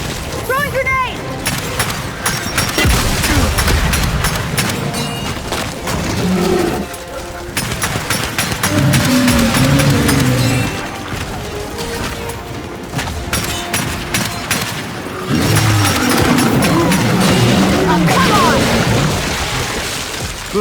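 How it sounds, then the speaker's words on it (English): Gears of War 5 combat with heavy bursts of rapid gunfire, booming grenade explosions and a roaring creature, loud and continuous, with shouted voices mixed into the chaos. "Throwing grenade!"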